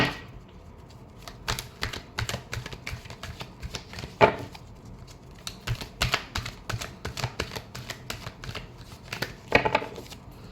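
A deck of tarot cards is shuffled over and over, giving rapid crisp riffles and flicks in uneven bursts, close and clear, with a few sharper snaps as the cards are squared.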